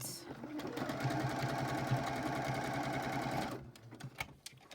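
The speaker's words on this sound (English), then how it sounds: "I'm actually going to cover that piece of stitch like that and sew that down." A sewing machine stitches a fabric snippet roll, its steady, rapid close chatter running for over three seconds before stopping, followed by faint handling sounds.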